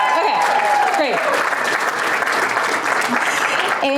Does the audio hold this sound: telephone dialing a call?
no